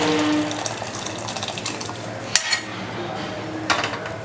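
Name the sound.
pouring lentil water into pot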